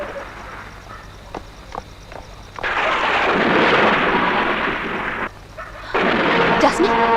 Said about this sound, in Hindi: एक बहुत बड़ा तूफान आया